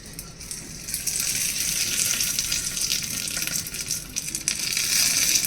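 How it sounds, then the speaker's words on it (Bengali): Hot tempering hits freshly made coconut chutney with a bright, hissing sizzle that runs steadily for several seconds, fairly close and without voices. "এবারে এই নারকেলের চাটনির সঙ্গে আমি ওটা ফোড়নটা দিয়ে দিই।"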